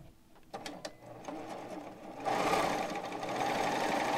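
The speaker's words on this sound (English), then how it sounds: "I'm going to set it here, drop my foot, and let's just start to sew." A sewing machine stitches a table runner with fusible fleece, starting with a few mechanical clicks as the foot drops, then settling into a steady, close, whirring run of stitches.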